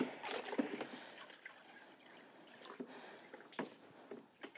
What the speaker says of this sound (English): so we're gonna put our mop in the water